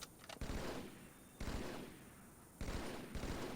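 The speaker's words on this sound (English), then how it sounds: "I don't even know if this gun can shoot that far." Gunfire in the Halo video game, with three bursts of rapid, rattling shots separated by short pauses, each burst loud at onset and then trailing off, with no talk over it.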